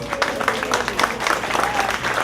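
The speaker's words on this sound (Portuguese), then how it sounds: "Uma salva de palmas para eles." Audience applause at a book launch event, a short burst of dense clapping at moderate loudness with some crowd noise mixed in.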